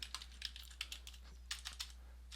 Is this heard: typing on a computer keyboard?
yes